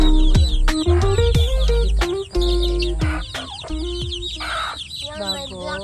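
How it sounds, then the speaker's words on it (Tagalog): Chickens cluck loudly and close by on a rural Philippine farm in the morning, with a rapid, overlapping stream of clucks and squawks and occasional voices mixed in. "Chicken."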